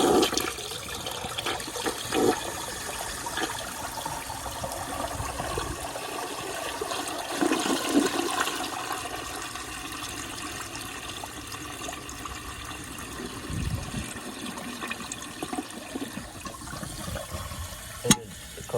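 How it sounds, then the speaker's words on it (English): A 1971 American Standard Cadet toilet flushes with its rims unblocked, a steady rushing swirl of water that holds for most of the run before tapering off as the tank refills, heard alone at close range. "So here's a flush, how it would without those rims blocked."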